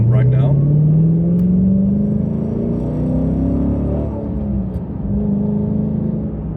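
Dodge Challenger with a Barton shifter pulling in second gear, heard from inside: a loud low engine drone climbing steadily in pitch, then easing off and settling. Someone talks over it.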